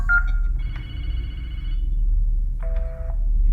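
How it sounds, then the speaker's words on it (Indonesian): A child's toy bicycle in a haunted-toy radio drama gives off short, bright, bell-like electronic rings, two separate bursts a moment apart over a low steady hum. "bunyi itu berasal dari sepeda mainan"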